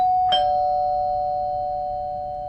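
A doorbell chimes once, a sharp ding ringing out clearly and then sustaining a steady tone that slowly fades over a quiet background.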